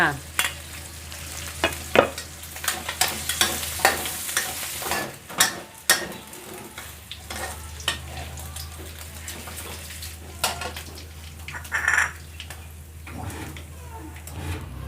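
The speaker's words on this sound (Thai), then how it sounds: "เราจะต้องผัดหมูให้สุกก่อนค่ะ" Pork and garlic stir-fried in a pan, with irregular clacks of a spatula scraping and tossing over a steady low sizzle, loud and close, while someone talks intermittently.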